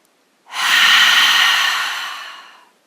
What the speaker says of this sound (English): Big breath in, decompress with an exhale